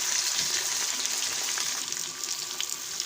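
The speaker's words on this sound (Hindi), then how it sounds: "अब आलूओं को मिक्स कर लेंगे और थोड़ी देर आलूओं को फ्राई कर लेंगे।" Potatoes frying in a pan for aloo palak give a steady, dense sizzle that holds fairly even throughout, close and continuous with no talking.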